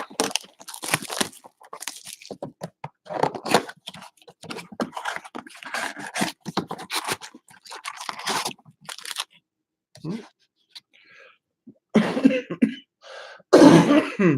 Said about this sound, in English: I'm starting to get that coughing going again.